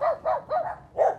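Dogs at village homes in Bang Krachao bark at an unfamiliar visitor, four sharp barks in an uneven rhythm, fairly close and loud with no talk over them.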